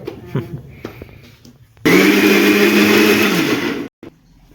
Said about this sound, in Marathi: आता हे सर्व मी फिरवून घेते मिक्सरमध्ये बारीक